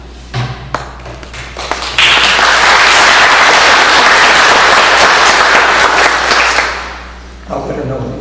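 Audience applause at an awards ceremony swells into a loud, dense burst of clapping lasting several seconds, then fades, with a few scattered claps and taps before and after.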